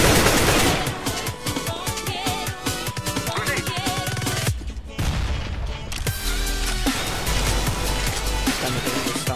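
Rapid AK rifle bursts rattle out in CS:GO, sharp repeated shots in quick strings over busy game sounds and music, pausing briefly before more gunfire and thuds return.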